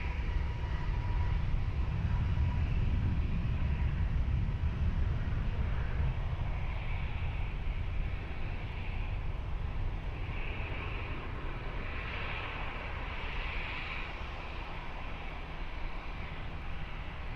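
A plane takes off from runway 20 at Lisbon Airport, a loud, steady engine roar that holds throughout and eases slightly toward the end.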